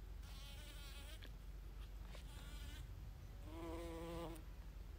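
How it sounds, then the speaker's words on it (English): Large kumabachi bee buzzing on Mount Ibuki, faint droning hums that rise and fall as it passes near, strongest in a burst toward the end over quiet outdoor ambience. "This is called a kumabachi. It's called a bear bee, kumabachi."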